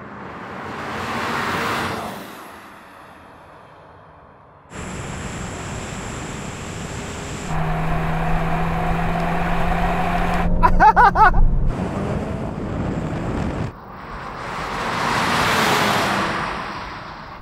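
Several VW Golf GTI generations in a drag race, engines droning loudly at close range with a rising pitch, a sharp shift around the middle, then cars rushing past and fading out.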